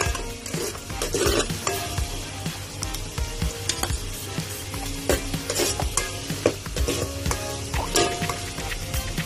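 Garlic sizzles steadily in hot oil in a pan while a utensil stirs and scrapes it in quick, irregular strokes, close and loud, with no talking, as it cooks for squid adobo with tomatoes.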